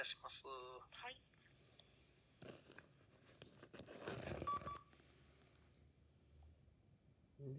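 A touch-tone telephone keypad is dialed before a call to a police station, a quick run of beeps at the start followed by quieter handling and rustling noises.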